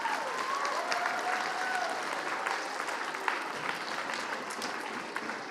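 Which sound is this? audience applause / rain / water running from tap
audience applause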